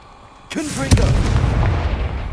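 A Confringo spell blast in the video game Hogwarts Legacy, a sudden loud booming burst with a sharp crack, followed by a rumbling tail that carries on to the end.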